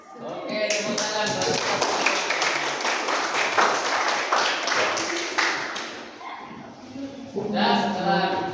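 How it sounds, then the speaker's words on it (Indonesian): A classroom group clapping hands together: dense, rapid, loud clapping that lasts several seconds, followed by a brief pause and then voices. "Oke, tepuk tangan."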